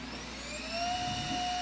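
A Pantum P2506W laser printer printing a test page gives a steady mechanical whir and hum with a rising whine, fairly close, running continuously without voices.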